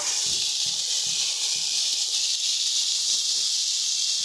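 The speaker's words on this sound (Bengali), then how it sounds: "এবার দিয়ে দেবো আগে থেকে ভেজে রাখা চিংড়ি মাছটা চিংড়ি মাছগুলো দিয়ে এটাকে ভালো করে মিশিয়ে নেব" Fried prawns stirred into a bubbling Bengali pumpkin curry, with a continuous steamy hiss and soft scraping stirs throughout, no voices.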